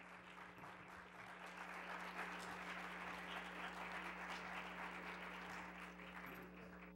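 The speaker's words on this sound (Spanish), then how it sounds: "lo recibimos con el aplauso que se merece" Faint, steady applause from a conference audience welcoming a speaker, sustained evenly for several seconds over a low electrical hum, with no voices above it.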